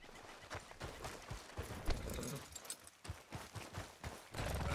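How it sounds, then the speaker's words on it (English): Horse hooves clip-clopping in the Red Dead Redemption 2 video game, a steady run of hoof strikes at close range mixed with outdoor game ambience, with no talk over it. "How's that horse treating you?"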